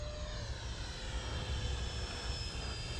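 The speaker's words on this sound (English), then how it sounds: "This is basically my second real flight with this plane" A 3D-printed Gripen RC jet model flies overhead, its steady engine roar loud and continuous throughout with no talk.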